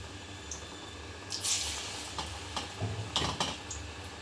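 Small dough balls of paniyaram batter frying in hot oil, a soft steady sizzle with bursts of crackling spatter as pieces drop in, close and fairly quiet, no talking.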